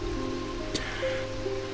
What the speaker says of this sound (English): that rain's very relaxing